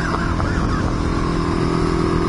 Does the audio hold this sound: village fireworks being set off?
no